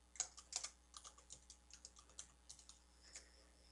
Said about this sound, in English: I'm going to type in JP Technology